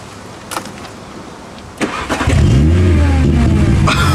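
A car engine cranks and catches after a quiet start, then settles into a loud, steady rumble with rising revs close by; the car is a Triumph sports car that has just been bought.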